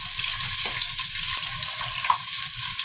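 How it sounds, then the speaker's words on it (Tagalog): Eggs fry for Filipino egg adobo, giving a continuous close sizzle and crackle in hot oil with a few faint clinks, heard alone. "Ipiprito lang natin yan."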